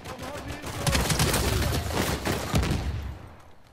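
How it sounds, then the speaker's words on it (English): Rapid bursts of video game gunfire crackle through the whole stretch, several volleys of shots overlapping at close range, loud and dense before thinning out near the end. "Are they all shooting at me?"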